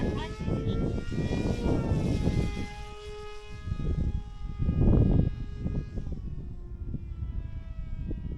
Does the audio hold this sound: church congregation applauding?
no